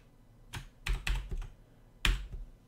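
Computer keyboard keys clatter in a few separate quick strokes and short runs as a C# console command is entered, close and crisp with small gaps between presses.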